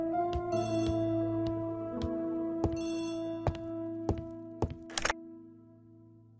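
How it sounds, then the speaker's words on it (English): A telephone rings in The ABC Murders game in short repeated trills over a steady musical backdrop, with sharp thuds and clicks toward the end and no speech. "phone is ringing"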